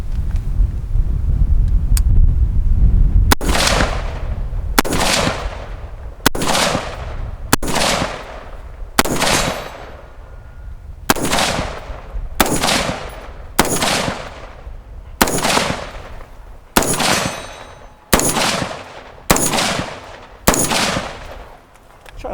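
A series of about a dozen sharp, loud AR pistol gunshots rings out at a steady, unhurried pace toward distant targets at an outdoor range, each crack followed by a short decaying echo, with light wind noise between shots.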